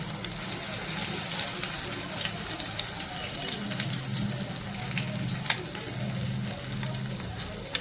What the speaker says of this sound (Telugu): మసాలా వేసుకుని నూనెలో బాగా వేయించుకోవాలి